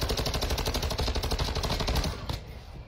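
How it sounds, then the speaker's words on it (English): Rapid, loud bursts of video game gunfire and explosive impacts from a mortar strike in an online shooter, rattling steadily for about two seconds before trailing off into a fading rumble. "I don't be liking that mortar strike, it takes forever."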